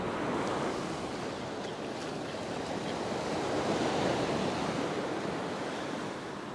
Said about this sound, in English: There's a good combination of water depth and a little bit of wave action.